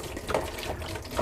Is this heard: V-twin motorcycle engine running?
no